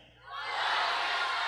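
An audience at an indoor event in Bali swells into a loud cheer and shouting, rising quickly and holding as a dense roar.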